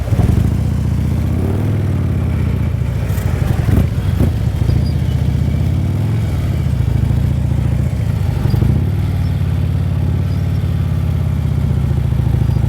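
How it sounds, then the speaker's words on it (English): A police motorcycle engine idles and revs gently during slow maneuvers, a steady close rumble with small throttle swells and occasional clatter. "You can hear the engine turning as I'm moving."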